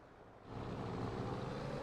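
A small T-6 propeller aircraft drones steadily overhead near a garden, its low engine hum swelling after a half-second and holding at a moderate, somewhat distant level.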